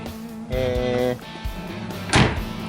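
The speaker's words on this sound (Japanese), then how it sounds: "お、ドアの閉まりも最高。" Car door shutting on a 1970s Isuzu 117 Coupe, a single solid thunk near the end after some handling and shuffling sounds, close and moderately loud.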